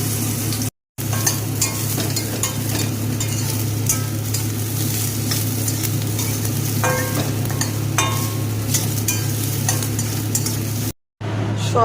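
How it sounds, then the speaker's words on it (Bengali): Soybean chunks fry in hot oil in a wok for a vegetable and spinach khichuri, giving a steady, close sizzle with occasional stirring scrapes and no talk. "এবার সয়াবিনটাকে তেলের মধ্যে দিয়ে দেব।"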